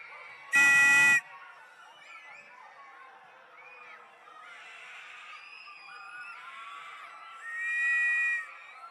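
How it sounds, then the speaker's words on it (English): A crowd of children at a nighttime vacation Bible school closing session lets out a sudden loud burst of screaming and cheering, followed by quieter chatter and another swell of shouting near the end. "If you had a good time tonight, let me hear you scream!"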